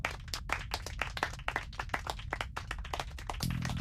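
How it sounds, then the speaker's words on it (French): Applause from a group of men urged to cheer a servant's performance, a dense run of sharp claps that continues steadily throughout. "Applaudissements."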